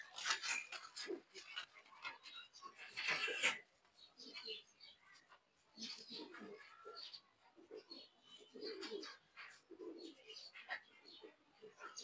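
Pigeons coo close by in soft, repeated throaty rolls, with some brief chirps mixed in and a few short gaps between calls.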